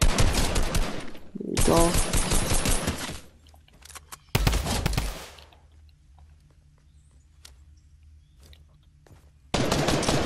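Automatic gunfire in bursts from a video game zombie shootout on a robot-zombie creative map, loud and dense at first and then again later, with quieter gaps between and a brief spoken remark.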